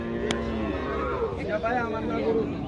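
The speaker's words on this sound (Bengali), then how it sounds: "এই গরুগুলো সুন্দর" Cattle low and moo at a busy pre-Eid livestock market in Comilla, Bangladesh, with a long drawn-out call near the middle over constant crowd chatter and market bustle.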